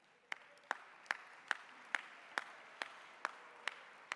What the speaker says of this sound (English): Give Equal Times a happy birthday clap.